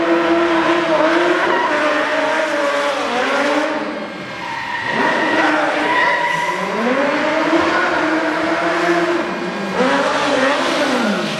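A stunt show pursuit car at an extreme stunt show skids and revs loudly, with long swooping tire squeals rising and falling across the run, engine roaring throughout and close.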